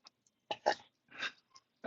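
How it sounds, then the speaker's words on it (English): Several short burps from a person, a few quick and then one fuller burst at the end, close to the mic in an otherwise quiet room. "It was that was quite a burp there."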